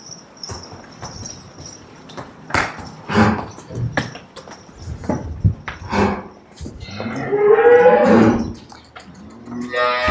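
A cow moos loudly and close by, a long drawn-out low call rising and falling, with other farm noises and shuffling around it.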